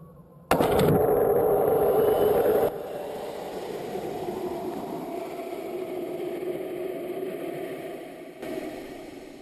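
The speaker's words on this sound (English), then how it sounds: "Look at this rocket with a GoPro camera on it" A small rocket carrying a GoPro camera launches with a sudden loud roaring burst that lasts a couple of seconds, then settles into a steady rushing wind-like noise as it climbs.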